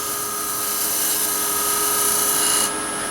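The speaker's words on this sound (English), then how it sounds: "I'm going to take my spindle gouge and I'm going to gently roll into that just a little bit." A spindle gouge rolls gently into a spinning wooden ring box on a lathe, giving a steady high whirring hiss that holds even for a few seconds and then drops slightly in tone near the end.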